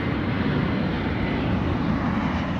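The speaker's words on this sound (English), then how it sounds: "British Airways flight taking off from the tiny little runway on the Rock of Gibraltar" British Airways passenger jet taking off from the short runway at Gibraltar, a loud, steady, continuous engine roar that fills the whole stretch without letting up, no voices over it.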